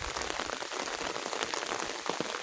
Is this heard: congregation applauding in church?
no